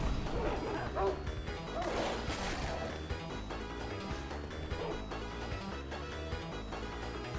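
Dogs barking in the video game Sekiro amid a busy, dense game soundscape with crashes and thuds, steady and fairly loud throughout.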